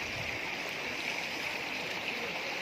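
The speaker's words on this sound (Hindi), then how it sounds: "कुदरती चश्मा जिससे गर्म पानी निकलता है" Natural hot spring water flowing steadily at Tattapani in Kotli, Kashmir, a continuous broadband rushing and gurgling wash heard close and alone, with no talk over it.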